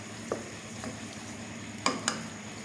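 Masala sizzles in ghee as whisked yogurt is stirred in for Lahori chana, a soft steady fry with a few sharp spoon clinks against the pan.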